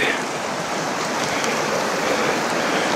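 A creek flowing through a mossy green area on a hiking trail in Cayambe-Coca National Park near Papallacta gives a steady, full rush of running water, loud and continuous throughout.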